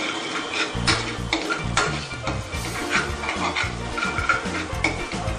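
Ginger, garlic and green chili cook in a pot for Mumbai street-style pav bhaji, with a spoon scraping and clinking against the pot in steady rhythmic stirring over a low continuous sizzle.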